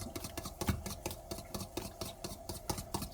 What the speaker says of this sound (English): We have a beautifully whisked up egg.